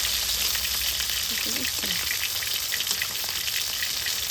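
Fish frying in a pan on a kitchen stove, a steady crackling sizzle throughout, with a soft voice briefly speaking over it.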